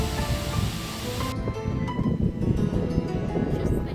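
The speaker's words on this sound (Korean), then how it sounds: "폭포가 있어서 시끄럽다." Steady, dense rushing water from a nearby waterfall beside an office-like indoor space, loud and continuous throughout with no pauses.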